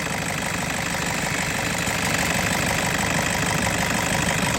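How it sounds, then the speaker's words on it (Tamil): A Toyota Innova pickup engine idles steadily after an injector repair, a continuous close rumble with an even low-pitched rhythm that holds throughout with no talk. "இப்போ பாருங்கள், வண்டியோட ரிதமே சூப்பராக இருக்குது."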